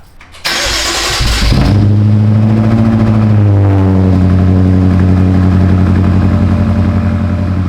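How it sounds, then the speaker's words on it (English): A BMW M5 cold-starts with a straight-piped exhaust and stock cats: the starter cranks, then the engine catches loudly and settles into a raw, close, high idle that slowly drops. "Let's do a cold start, completely straight piped."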